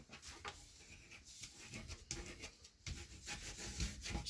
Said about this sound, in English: Just give it a good burnish on every panel.